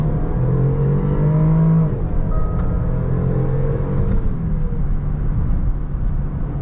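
A 2016 Range Rover Sport HSE accelerates, heard from inside the cabin as a loud, deep engine rumble with rising tones that shift near the two-second mark and continue steadily.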